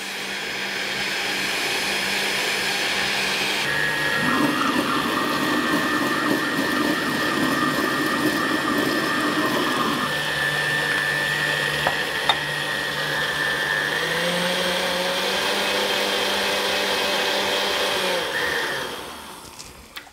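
A blender runs at high speed puréeing a truffled roasted cauliflower soup, a loud continuous whir whose pitch shifts as the speed rises and the mixture thins, then winds down at the end.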